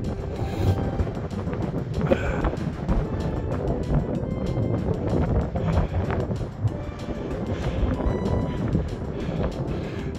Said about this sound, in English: It's quite windy at the edge there.